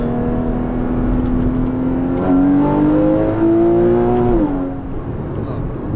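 A Porsche Cayman GTS 981 with PDK gearbox accelerates at low city speed, its engine note rising steadily then dropping at a shift, loud and close, with someone talking over it.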